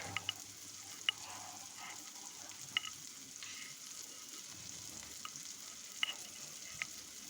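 Garlic and ginger paste with onions fries quietly in a pan while being stirred, a soft, low sizzle broken by sharp spoon taps against the pan at irregular intervals.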